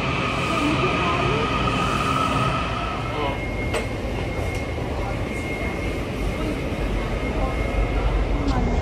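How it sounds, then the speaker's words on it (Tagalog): A Red Line metro train at Gallery Place station in Washington, D.C. gives a steady loud rumble with a tonal whine and brief squeals as it runs. Voices talk faintly under the continuous noise. "Go back to the train to go home."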